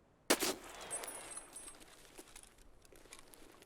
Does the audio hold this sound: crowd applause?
no